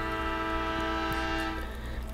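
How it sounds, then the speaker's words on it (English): Long, sustained train horn blast in The Lord of the Rings Online, a rich steady chord holding for about two seconds over a low rumble, loud and unbroken. "that train horn, I don't know if y'all can hear it, but that might be a bit annoying"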